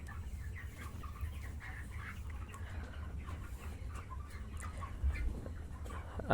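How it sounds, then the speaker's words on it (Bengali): Broiler chickens in a poultry shed cluck faintly amid a low, steady rumble, with scattered soft calls and a brief louder rustle near the end. "আমি মুরগি ধরতে যাচ্ছি মুরগি একটু ছুটে আপনার অন্যদিকে চলে যাচ্ছে"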